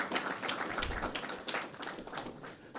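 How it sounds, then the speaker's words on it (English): Audience applause at a Saint Lucia semi-professional football league awards ceremony: a steady, fairly quiet wash of many hands clapping that runs the whole time without letup. "let's get another round of applause for Miss Saint-Ange."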